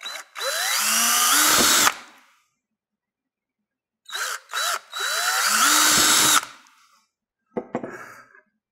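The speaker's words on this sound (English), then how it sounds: "I'm gonna drill these out." A power drill whines in two long bursts with rising pitch as it bites into door panel studs on a first-generation Camaro, separated by silence, then a short final burst.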